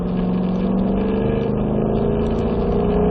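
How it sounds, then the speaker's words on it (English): A race car powers up the banking of an oval track under throttle, its engine roaring loud and steady at close range throughout. "So, up on the banking, start to squeeze on the throttle."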